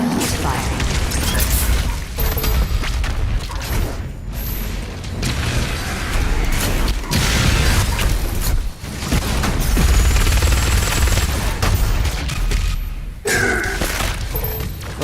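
The BFG 10,000 firing in a video game: a loud, dense mechanical roar of booms and rumbling that fills the whole stretch, dipping briefly a few times.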